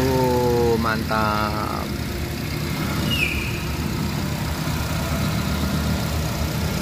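A used car engine, apparently a Nissan Grand Livina, idles at a lot, giving a steady low rumble throughout while someone speaks briefly over it.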